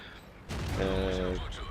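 Tank cannon fire in the World of Tanks video game: one sudden heavy boom with a rumbling tail, and a voice commentating over it.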